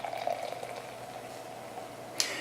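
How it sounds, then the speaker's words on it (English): Sierra Nevada Narwhal stout pours down the middle of a glass with a soft, bubbling liquid gurgle that fades into a faint fizz, followed by a single brief clink near the end. "Let's give this guy a pour down the middle."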